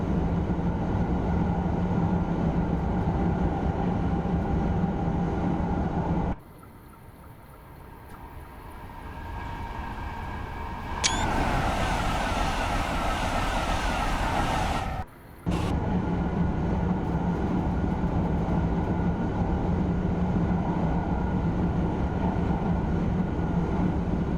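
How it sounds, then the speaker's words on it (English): A steady, loud rumble of a TGV high-speed train in a video game, accelerating along the track, briefly dropping away and returning, with mechanical whine over the continuous roar. "I keep forgetting how quickly this train accelerates."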